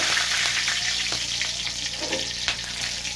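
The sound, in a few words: frying whole garam masala and dried chilies in oil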